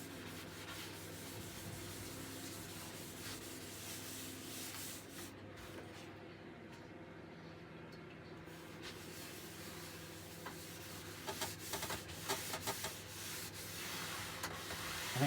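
Wax being rubbed by hand onto a scaffold board table top, a quiet, continuous scrubbing and rasping with a few sharper scuffs toward the end, no voices.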